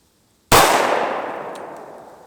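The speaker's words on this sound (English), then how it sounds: "So the last pistol we're gonna shoot is actually the 357 SIG, also out of the Glock 23." A .357 SIG round fired from a Glock 23 pistol slams into a steel bank vault door: one sudden, loud metallic crack with a ringing clang that decays slowly over about two seconds.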